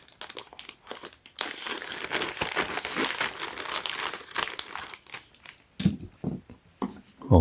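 Scissors snip and slice through a USPS plastic mail package, with sharp crinkling and rustling of the wrapping close up, in bursts with short pauses.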